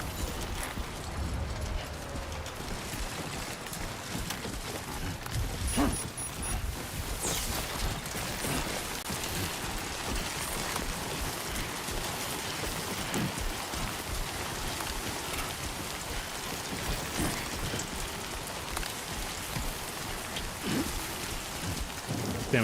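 Timefall rain pours steadily in Death Stranding while a Tri-Cruiser takes damage, with a dense hiss of rainfall, scattered drops and occasional low rumbles running throughout.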